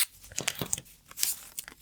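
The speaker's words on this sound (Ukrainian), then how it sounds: "гарненько склеюємо все скотчем або малярною стрічкою, щоб не розпалося." Adhesive or masking tape is torn off a roll while pieces of a sewn dress are being taped together, heard as several quiet, close, crackling rips and crinkles spread over a couple of seconds.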